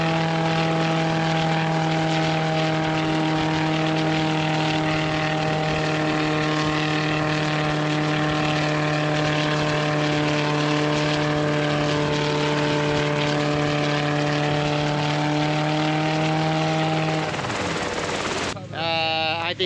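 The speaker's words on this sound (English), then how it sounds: "I think just the rotor wash against the building was just so freaking violent" A helicopter's engine and rotor run close and loud in a steady whining drone as it prepares to take off, the blade wash rising into a rougher churning roar near the end.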